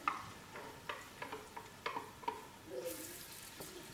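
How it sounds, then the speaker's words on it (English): Onions frying in heated oil with white pepper for Cameroonian jollof rice, a soft sizzle broken by a series of sharp stirring clicks and scrapes, with a brighter hiss rising near the end; no talking. "I begin with frying the onions."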